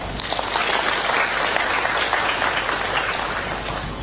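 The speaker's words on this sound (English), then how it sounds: "Give him a clap." An audience at a national budget conference claps for the Prime Minister, a dense, sustained burst of applause that fills the hall at steady loudness.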